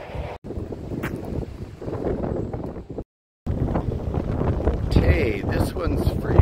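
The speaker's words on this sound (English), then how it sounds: "that is a strong enough wind to make me work far harder than I want to" Strong, gusty outdoor wind near Taber, Alberta buffets the microphone in a loud, continuous roar, broken by one short dropout before the wind resumes even stronger.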